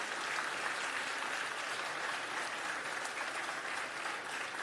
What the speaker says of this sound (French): Bravo Andrea, on t'applaudit encore une fois.